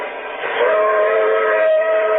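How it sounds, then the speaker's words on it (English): Train whistle sounding as one sustained, loud, steady tone that swells after a moment and holds, with no voices over it. "It sounded like a train whistle."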